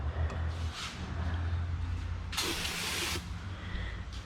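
A BMW X3 oil cooler, removed from the car, is sprayed down with cleaner, a sharp hiss burst of spray lasting under a second amid quieter background hiss and garage hum.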